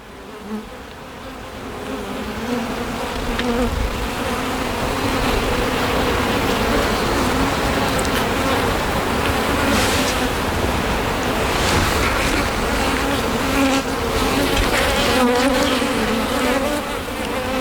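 Honeybees swarm and buzz in a dense, steady drone around an open hive bringing in red and orange pollen, the hum continuous and close with a faint wind-like rush beneath it.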